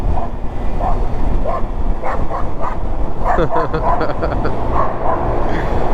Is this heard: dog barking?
yes